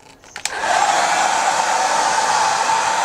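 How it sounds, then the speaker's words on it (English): A blow dryer switches on after a brief moment of faint handling noise and then roars steadily and loudly as it blasts loose static grass off a scale model base. "You take your blow dryer, you turn it on,"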